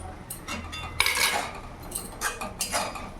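Metal utensil scraping and clinking against a pan in several short bursts, stirring fried potato and eggplant with spices, fairly quiet and close with no speech.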